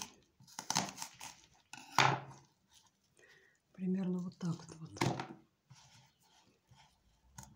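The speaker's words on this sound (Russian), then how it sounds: "Потом мы нарезаем его полукольцем." A knife slices onions into half rings on a board in quick, close cuts, mixed with a voice talking over the work.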